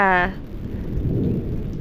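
Thunderstorm with lightning striking close to a house: a steady wash of heavy rain with low, rolling rumble throughout, after a brief voice at the start.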